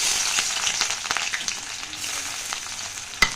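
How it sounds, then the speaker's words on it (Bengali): Chopped onion dropped into hot oil for a tadka sizzles steadily and close, a continuous bright hiss dotted with small pops and crackles, ending on one sharp louder crackle. "তো এই দেখো তেলটা গরম হয়ে গেছে, আমি দিয়ে দিচ্ছি পেঁয়াজ কুচি।"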